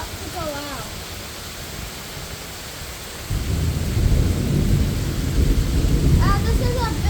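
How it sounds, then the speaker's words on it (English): Heavy rain and low thunder rumble through a severe thunderstorm, the downpour swelling louder halfway through as a voice speaks briefly at the start and near the end. "this is a big storm"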